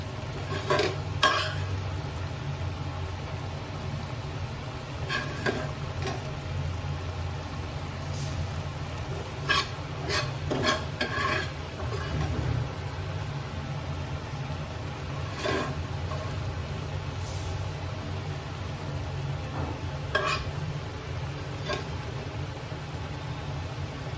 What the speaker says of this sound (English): Okay, so now I'm just going to mix everything.